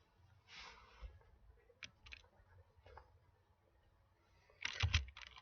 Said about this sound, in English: my typing sucks right now